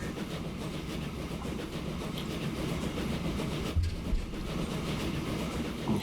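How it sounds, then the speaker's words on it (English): In the video game Transport Fever, a freight train loaded with iron ore rolls along with a steady rumble and soft rhythmic clatter, moderately quiet and continuous, with no talking. "So our train has now got a full load of iron ore."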